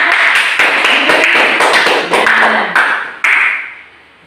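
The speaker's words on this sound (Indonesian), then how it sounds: "tepuk tangan untuk kelompok" A short burst of clapping from a group of students in a classroom, scattered claps thinning out and fading to quiet.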